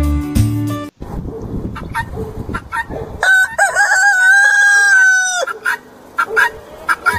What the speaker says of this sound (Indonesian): ini ayam pejantan